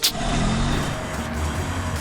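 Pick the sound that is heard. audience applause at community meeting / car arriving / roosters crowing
car arriving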